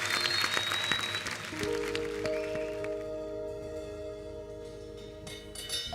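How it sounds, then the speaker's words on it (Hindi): Studio audience applause for the Marjaavaan film cast on a comedy talk show stage, a broad sustained wash of clapping mixed with loud music and cheering, continuing steadily through the whole stretch. "एक बार जोरदार तालियां हो जाए मरजावा की पूरी कास्ट के लिए।"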